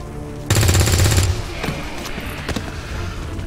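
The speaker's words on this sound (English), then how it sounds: "Yep, fire weapon." Rapid automatic weapon fire in the turn-based strategy game XCOM 2, a loud dense burst lasting under a second, followed by scattered mechanical clacks and impacts.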